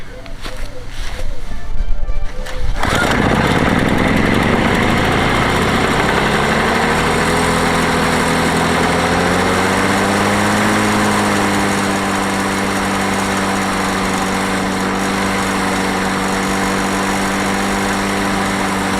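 A lawn mower with a Rotax engine starts on the first pull after several rough cranking bursts. It settles into a loud, steady close-up idle with a drifting drone that runs to the end.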